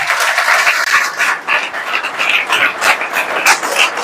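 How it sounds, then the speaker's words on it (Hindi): Loud, dense applause from a crowd, clapping continuously with slight swells, no talking. "जोरदार तालियां।"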